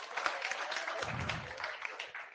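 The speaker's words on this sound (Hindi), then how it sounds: "एक बार ताली बजाओ इस बालक के लिए।" Classroom of students clapping for a boy: a short, quiet burst of scattered hand claps from a small group, brief and somewhat distant.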